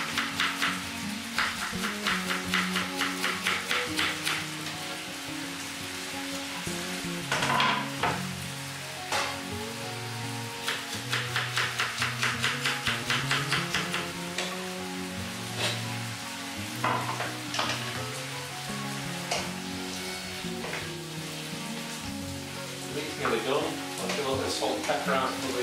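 Onions sizzle steadily in a pan for a venison casserole, a soft constant frying hiss under a person talking, with occasional stirring clatter and utensil taps.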